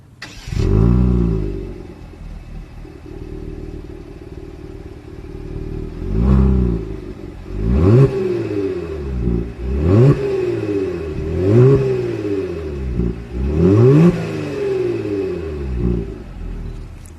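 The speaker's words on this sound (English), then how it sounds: "As always, here is that exhaust clip." A 2020 Genesis G70's engine idles with a deep exhaust burble, then revs up sharply several times in repeated rising and falling bursts, loud and close.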